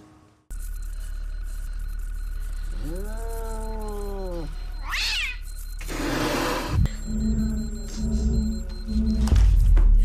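A cat from the Stranger Things episode "Holly Jolly" lets out a long, wavering meow over a steady background drone, followed by louder rustling and music-like tones.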